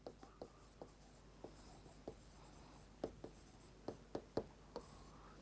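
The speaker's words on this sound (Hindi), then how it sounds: "सबसे पहले हम लिखते हैं गिवन।" Pen scratching and tapping on paper while solving a Class 10 physics problem, a series of soft, quick strokes with sharper ticks, close and quiet, with no voice heard.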